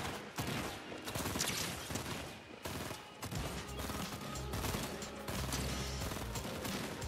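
Rapid gunfire from a Fortnite battle, with bursts of shots crackling almost without pause throughout the stretch, loud and dense, mixed with mechanical clatter and game effects.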